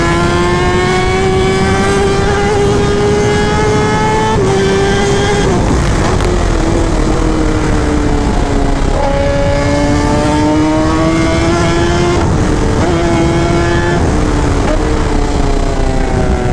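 A superbike engine at high speed with traction control switched off, riding on a highway. It screams loudly and steadily, dipping briefly between gear shifts before climbing again, with no talk over it.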